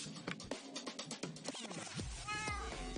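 Several Minecraft cats meow in a quick series of overlapping calls near the player, growing denser and louder toward the end over a busy game backdrop, with no voices.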